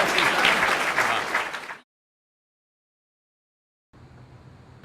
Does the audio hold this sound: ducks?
no